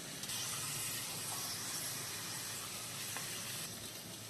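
Curry leaves and pounded ginger sizzle in hot oil for tomato curry, a steady dense frying hiss throughout with a few faint pops, no talking.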